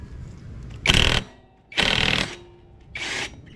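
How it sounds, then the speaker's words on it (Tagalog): Honda PCX160 CVT drive pulley nut loosened counterclockwise with a 22 mm power tool, heard as three loud, close bursts of rattling impact-wrench whirring, each about half a second long, with short gaps between. "Pukasin muna natin tong pulley, pulley drive niya. Gamit natin itong number 22. Yan, counterclockwise."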